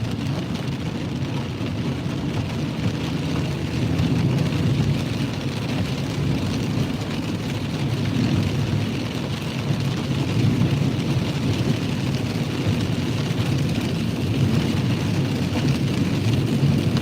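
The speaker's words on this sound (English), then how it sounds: "Yeah, that's coming down. Lots of rain where this convergence zone is." Heavy storm rain pours down in a steady, dense roar that lasts throughout, mixed with a low rumble, and no voices are heard.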